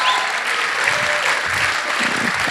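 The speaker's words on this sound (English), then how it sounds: "can we have a big round of applause for our MCs, Hallie Greenberg and Jack Hess" Audience applause for the MCs at a 2017 high school homecoming coronation, a dense, steady wash of clapping from a large crowd filling the whole moment without a break.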